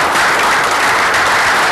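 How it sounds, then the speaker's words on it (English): Steady, dense applause fills a council meeting as the room claps for commission members, loud and continuous from start to finish with no voices. "So if we could just take a moment and applaud for those people."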